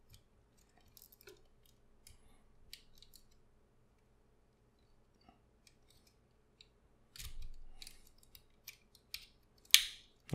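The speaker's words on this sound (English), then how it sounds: "there's another really clicky joint here" A ratcheting joint on a Transformers Masterpiece MP-44 Optimus Prime figure is moved, giving a few quiet, sharp, close clicks in a short cluster near the end after near-silence.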